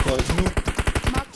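Rapid automatic gunfire sprays in PUBG Mobile on the Erangel map, a fast run of about a dozen sharp, loud shots in steady rhythm with no pause, played on an iPad Pro.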